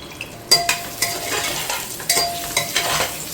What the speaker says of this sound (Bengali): দেখো আলু আমাদের মোটামুটি ভাজা হয়ে গেছে